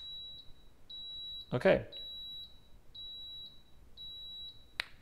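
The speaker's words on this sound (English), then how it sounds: "5 beeps means it's ready." A Baby Brezza bottle warmer gives a steady high-pitched electronic beep at regular intervals, five beeps in all, with a brief clatter and a short spoken word partway through.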